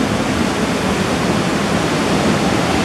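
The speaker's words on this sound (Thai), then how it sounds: "เสียงน้ำตกก็ทำให้มีพลัง" A waterfall in Khao Yai National Park, Thailand, roars close by, a thick, constant rush of falling water with no breaks or voices.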